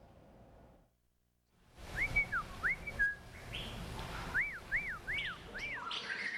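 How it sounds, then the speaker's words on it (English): Various bird species whistle and sing at Rosamond Gifford Zoo in wintertime: a quiet pause, then a run of clear, repeated rising-and-falling whistles over a busy background of chirps and calls, fairly close and loud. "It's really delightful to hear all the different species of birds whistling and singing"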